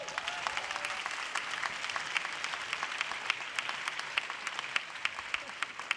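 Audience applause for a speaker at a panel discussion on degrowth and sufficiency, steady dense clapping from a sizeable crowd, moderately loud and sustained throughout with a few sharper individual claps.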